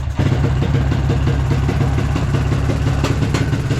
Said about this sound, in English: It's running terrible. It won't rev up. It wants to die every time I hit the throttle.